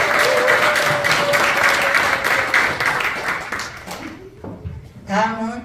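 Dense audience applause fills a year-end general meeting and banquet of a national veterans' environmental group, steady and loud, then fading out near the end as a voice begins to speak.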